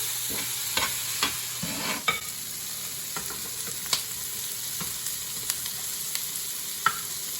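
Ribeye steaks for a steak pizzaiola fry in a pan with a steady, close hiss of sizzling, broken by scattered sharp pops and occasional utensil scrapes, with no talking over it.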